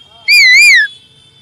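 One short, loud whistled call with a wavering pitch, made by a male mimicry performer imitating an Asian koel. It lasts about half a second and sounds close, with nothing else audible.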